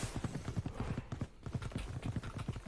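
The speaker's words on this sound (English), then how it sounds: "All those footsteps will be heard by Puffin and communicated" Rapid running footsteps in the game Valorant, a dense rhythmic patter of steps heard continuously at moderate volume with no voices.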